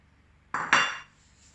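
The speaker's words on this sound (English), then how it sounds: "And just mix that in gently." While flour is gently folded into vanilla sponge cake batter, a utensil strikes the mixing bowl twice in quick succession, producing two close, bright clinks in an otherwise quiet kitchen.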